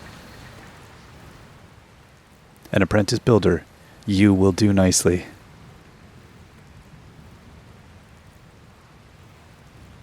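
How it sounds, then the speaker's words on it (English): Rain in the video game Dragon Quest Builders 2, a steady soft hiss of falling rain throughout, with a character's voice speaking over it briefly in the middle. "Uh-oh, it's starting to rain."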